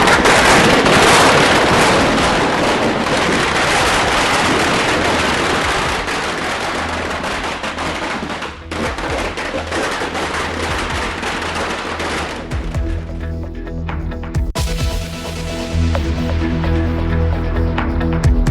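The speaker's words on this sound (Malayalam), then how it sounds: "പടക്കം പൊട്ടിച്ച് സുധാകരൻ അനുകൂലികൾ" Firecrackers set off by political supporters in Kerala burst in a long, rapid string of loud cracks and pops like gunfire, later thinning out over a steady tonal background.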